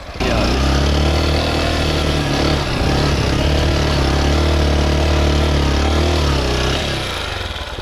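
A Honda XR 190 motorcycle engine pulls hard off-road, a loud, steady, close-up drone with a deep throbbing tone that rises as the bike accelerates, easing slightly near the end.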